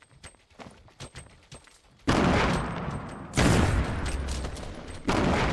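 Rocket and gunfire blasts in a shooter video game, a few sharp shots followed by heavy roaring explosions that arrive in loud overlapping waves.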